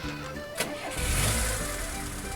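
Vehicle engine in Farming Simulator 19 cranks with a short starter whir, then catches and settles into a steady, loud mid-pitched idle with no voices.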